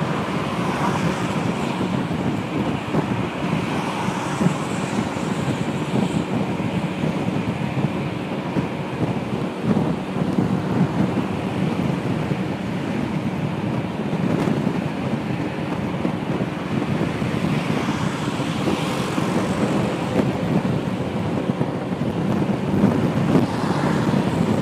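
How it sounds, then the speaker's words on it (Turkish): Steady, buffeting wind roar fills the helmet while riding a Yamaha NMAX 155 scooter fitted with a touring windscreen on a highway at about 70 km/h, constant and unbroken throughout. "Rüzgar sesi var biraz."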